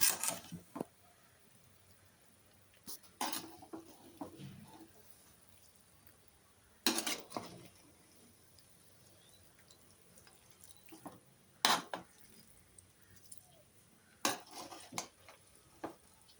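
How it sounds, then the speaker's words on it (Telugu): Chicken biryani being mixed in a pot, Rayalaseema style: sparse clanks of a spoon against the metal pot at intervals, fairly quiet, with soft scraping between hits and no talking. "ఇలా మనం బిర్యానీ మొత్తం నీట్గా కలుపుకోవాలి ఫ్రెండ్స్"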